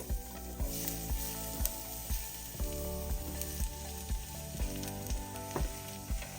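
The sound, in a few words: sautéing garlic in coconut oil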